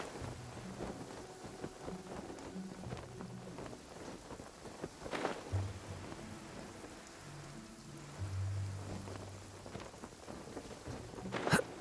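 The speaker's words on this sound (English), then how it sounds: "Going out on a rainy day is the worst." Steady rain falling in Genshin Impact, a broad hiss of drops filling the scene throughout, with a few sharper louder spikes and a low rumble swelling briefly in the middle and near the end.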